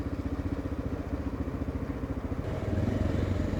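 A 1989 Honda NX650 motorcycle riding around town, its single-cylinder engine thumping in a steady rapid pulse close by, rising slightly in pitch and loudness toward the end.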